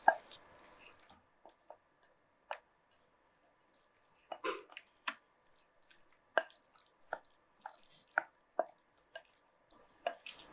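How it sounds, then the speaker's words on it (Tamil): Soya pachadi being stirred in a bowl, giving scattered soft wet squishes and small clicks of a spoon against the bowl's side, close and quiet with pauses between strokes. "இது இப்போ மிக்ஸ் பண்ணி சர்வ் பண்ணிடலாம்"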